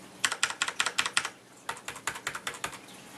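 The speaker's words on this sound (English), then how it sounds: "So I'm going to do a little typing sound check right here." A Corsair Vengeance K60 keyboard with red mechanical switches is typed on in two quick, evenly paced runs of crisp clacks, close up and clear, with a short pause between the runs and no speech.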